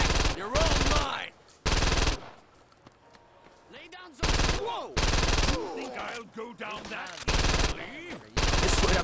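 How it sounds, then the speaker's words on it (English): Loud automatic gunfire rattles in repeated bursts as security guards are shot in Saints Row 2, several sustained volleys separated by brief lulls filled with game effects and speech. "Oh, okay, shoot the security guards first."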